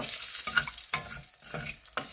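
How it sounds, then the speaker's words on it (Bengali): Dried red chillies and black cumin frying in hot oil while being stirred, with scraping stir strokes over a continuous close sizzle. "শুকনো লঙ্কা দিয়ে দিলাম।"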